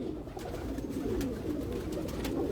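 Pigeons coo softly on a Lahore rooftop, low murmuring calls over a steady background hum, with a few faint clicks and no talk.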